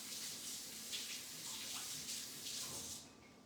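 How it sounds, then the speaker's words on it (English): A kitchen tap runs while hands are rinsed under it, a soft, steady hiss of water with slight splashing variations that cuts off near the end. "let me just rinse my hands off"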